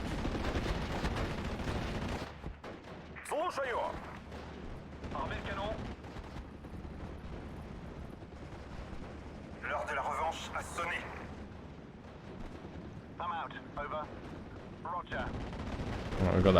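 An aerial bombing run and gunfire in Steel Division: Normandy 44 on the Côte 112 map, a heavy crackle of shots and explosions at first that thins to scattered distant blasts while someone talks over it.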